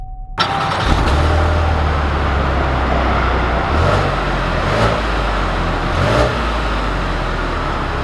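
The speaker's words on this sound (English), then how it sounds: "let's take this AT4 out and see how it drives" A 2020 GMC Acadia AT4 SUV engine fires up abruptly, then runs in a loud, steady hum with a few light rises in revs, heard close from inside the vehicle.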